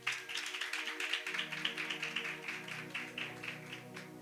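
A church congregation claps in a steady rhythm over a sustained keyboard chord at a sermon gathering, the claps coming evenly and moderately close for several seconds.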